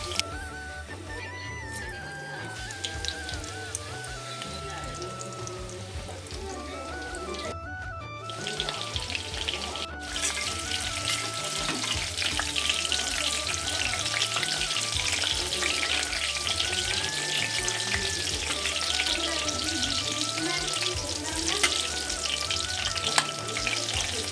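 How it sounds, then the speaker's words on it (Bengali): Chicken pakoras sizzle steadily in hot oil for the whole stretch, a dense crackling hiss, close and fairly loud, broken briefly by two short drop-outs early on, with no talking. "পকোড়াগুলো আমার ভাজা হয়ে গেছে এবারে এগুলো আমি তুলে নেবো"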